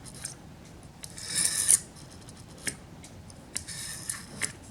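A blade cuts through cardboard along a ruler, giving a few short scraping rasps with one longer drawn cut in the middle, close and quiet, with no talk.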